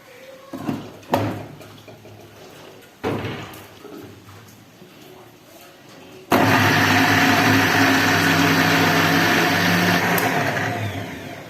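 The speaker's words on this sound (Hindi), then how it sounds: "और इसको हम ग्राइंड कर लेंगे।" Soaked chana dal with a little water being ground in a grinder jug: a few clunks and knocks, then the motor kicks in with a loud, steady, close whirring roar that holds to the end.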